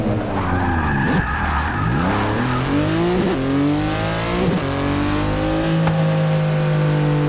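A Subaru with a swapped non-Subaru engine in the Forza 6 racing game revs hard and skids with squealing tires, its pitch rising and falling in several loud, sustained pulls with no talk over it.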